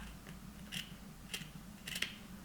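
Three quiet, crisp scissor snips, spaced well apart, trim a fabric seam allowance close to a stitched line while sewing a lip-shaped welt pocket.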